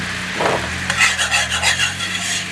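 Butter melts into wine, Worcestershire, shallots, thyme and beef broth in a frying pan, making a close, steady sizzle broken by a utensil scraping and stirring.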